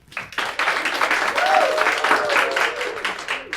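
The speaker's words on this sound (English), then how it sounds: "Please give a big round of applause to welcome Makai the Great." A studio audience claps to welcome a young inventor guest, the applause swelling quickly and holding as a dense, even patter for a few seconds, with a faint voice briefly audible underneath.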